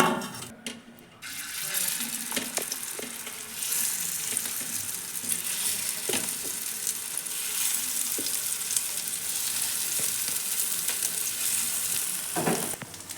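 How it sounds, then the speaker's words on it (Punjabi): Potato tikkis sizzle and fry in a pan for a fasting-style tikki chaat, a constant crackling hiss with occasional scrapes and stirring clinks, close and steady without speech. "ਬਾਕੀ ਦੀਆਂ ਦੂਜੀਆਂ ਟਿੱਕੀਆਂ ਵੀ ਜਿਹੜੀਆਂ ਆਪਾਂ ਇਸ ਤਰੀਕੇ ਦੇ ਨਾਲ ਫਰਾਈ ਕਰ ਲਾਂਗੇ"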